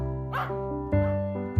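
A Fox Terrier barks and yips in a few sharp, tonal bursts, close and clear with short gaps between them.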